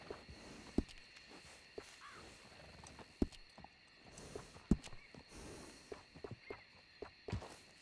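Horse hooves clip-clop at a walking pace in Red Dead Redemption 2, with soft irregular steps and a few sharper thuds over a quiet ambient bed, fairly close but low in level.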